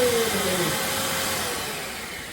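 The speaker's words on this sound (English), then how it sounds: "Let's see if the vacuum cleaner works." A vacuum cleaner runs steadily aboard a narrowboat with a broad whooshing roar and a faint falling whine, slowly quieting over a couple of seconds.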